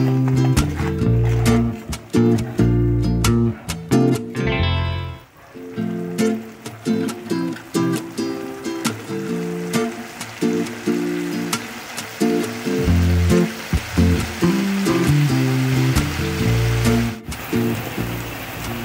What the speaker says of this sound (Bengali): এই মশলাটাকে খুব ভালো করে কষাতে হবে।